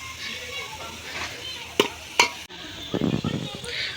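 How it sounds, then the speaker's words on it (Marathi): Onions fry in a pan over a wood-fired outdoor clay stove for village-style chicken, a steady sizzle broken by a couple of sharp utensil clacks and a burst of louder stirring near the end, with no talk. "इथं कांदा फ्राय होतो आहे"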